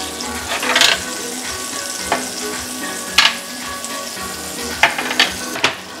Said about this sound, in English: And let that sizzle just a minute.